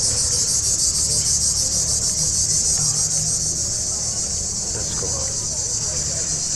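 Crickets chirp in a continuous high-pitched trill on the beachfront promenade in Marmaris, Turkey, steady and unbroken, with faint low background hum beneath.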